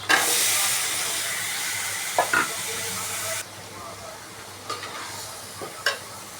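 Pumpkin, yardlong beans and carrot sauté in a hot pan with a loud steady sizzle for several seconds, then a quieter hiss broken by a few scraping stirs.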